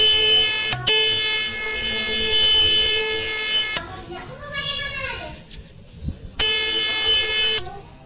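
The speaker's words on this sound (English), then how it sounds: "the sounds is like beeping from the projector visor" A projector gives a loud, harsh, continuous electronic beep in two long bursts, with a voice heard in the gap between them.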